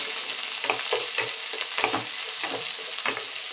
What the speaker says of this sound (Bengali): ছোটো ছোটো করে আমি আলু কেটে রেখেছি, তো এইগুলো ঘিয়ের ওপর দিয়ে দিলাম।